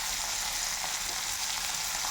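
Chopped chili and onion fry in a pan in a home kitchen, a steady close hiss and crackle of sizzling oil running evenly without pause.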